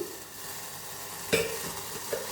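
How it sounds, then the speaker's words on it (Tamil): Water for tea bubbles and sizzles softly in a pot, with a light metallic clink of a spoon or pan partway through. "இப்போ தண்ணி கொதிக்குது"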